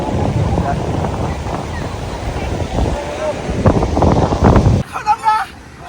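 Sea waves washing onto the beach at Himchari point in Cox's Bazar, a steady broadband rush with heavy wind buffeting the microphone, ending with brief voices nearby.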